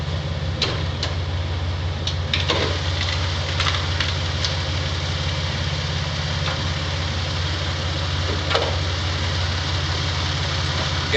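Engine idling steadily and continuously at close range during a jump-start between a Toyota 4Runner 3.4 and a Ford Explorer 4.0, with faint clicks and knocks over the constant hum.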